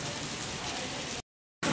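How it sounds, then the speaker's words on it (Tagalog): Heavy rain falls steadily as a dense, hissing patter, with a brief gap of silence before it resumes. "Lakas ng ating ulan."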